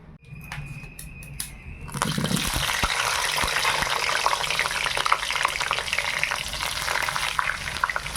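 A few clicks and faint noise, then a sudden loud burst of sizzling as oil crackles in a hot pan, continuing steadily and close, before meat is cooked.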